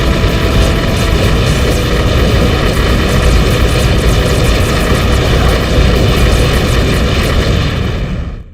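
A Hind attack helicopter in Metal Gear Solid roars loud and close, a dense sustained rotor and engine wash that fades out at the end.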